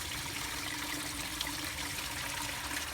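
Water and coolant draining steadily out of a Corvette C4 radiator during a coolant flush, a close, continuous trickling stream with an even hiss and no speech.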